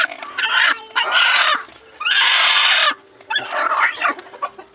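Chickens and chicks cluck and peep in bursts of dense, busy calling, close by with short pauses between and no talk.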